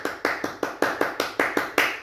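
Nine steady hand claps in a regular rhythm, close and fairly loud, during a children's storytime at a public library, with no voices between the claps.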